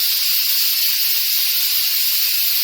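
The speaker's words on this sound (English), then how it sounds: "You don't have to hold the darn button down to vent the steam." A DEENKEE 10-in-1 pressure cooker releasing steam through its vent after the button is pushed, a loud continuous hiss held steady throughout.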